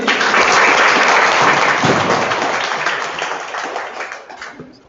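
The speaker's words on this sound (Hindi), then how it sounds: "ताली" A classroom of students applauds at a school gift-giving event for exam results, dense steady clapping that starts loud and slowly thins toward the end.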